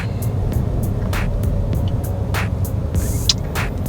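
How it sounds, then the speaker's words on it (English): Inside a car crawling through heavy Hawaii traffic, a steady low road rumble continues throughout, with faint regular ticks and clicks on top. "driving in this horrific Hawaii traffic."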